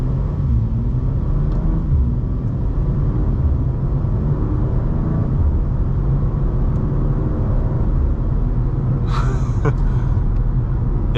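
BMW G87 M2 running an M2CS tune, heard from inside while driving: loud steady engine and road rumble throughout, with a brief sharp burst near the end like a quick gear shift.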